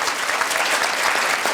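Audience clapping at a children's summit in Marin, a steady wash of applause throughout this short stretch.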